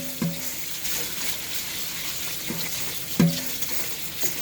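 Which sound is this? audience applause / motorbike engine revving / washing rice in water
washing rice in water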